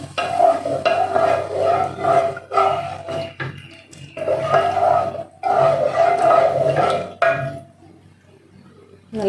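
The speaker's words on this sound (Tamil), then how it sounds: "நல்லா கொதிச்சு வரட்டும்." Coconut milk payasam (adapradhaman) bubbles in a pot while a spoon stirs it, giving loud, close scraping and gurgling in rhythmic waves that fade to near quiet near the end.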